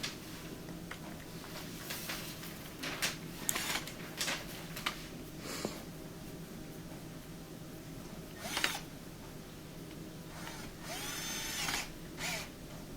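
A screwdriver tightens screws into the plastic housing of an LG washer, with short intermittent ratcheting and clicking bursts, close by, over a steady background hum.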